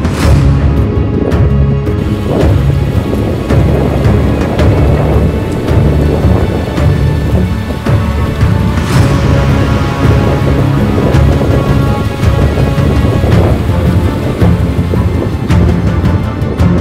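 Heavy rain pours loudly and steadily at Deomali in Koraput, Odisha, with thunder rumbling through the downpour and no voices.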